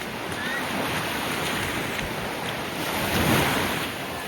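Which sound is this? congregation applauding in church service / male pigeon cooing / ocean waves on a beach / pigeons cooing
ocean waves on a beach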